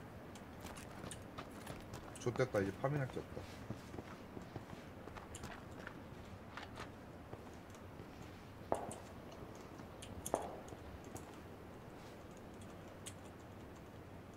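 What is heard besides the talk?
footsteps nearby in the video game PUBG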